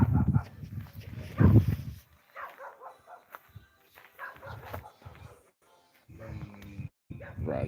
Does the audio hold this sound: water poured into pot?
no